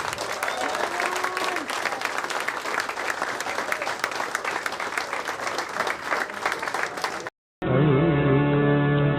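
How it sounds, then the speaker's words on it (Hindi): An audience at a mushaira claps hard for poet Zubair Ali Tabish, sustained crowd applause that runs evenly for several seconds before breaking off abruptly, followed by a short burst of music. "एक बार जोरदार तालियां जुबैर भाई के लिए।"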